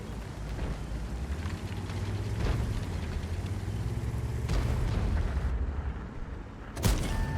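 A World of Tanks tank gun firing APCR shells booms a few times amid battle noise, with heavier thuds spaced through the clip and a sharp loud report near the end.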